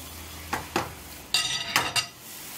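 Thin yufka batter poured into a lightly oiled pan and spread quickly, with a low sizzle broken by several sharp clinks and scraping bursts of a utensil against the pan, close and loud.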